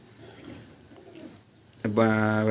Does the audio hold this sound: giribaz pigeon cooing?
yes